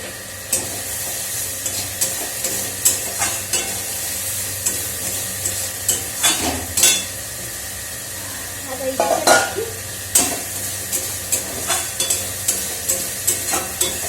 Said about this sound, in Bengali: এই যে মশলাটা একটু তেজ করে দিই